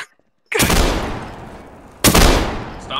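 Two loud gunshot bursts in the DarkRP game, one at about half a second and another near two seconds, each with a long ringing decay, with no talking.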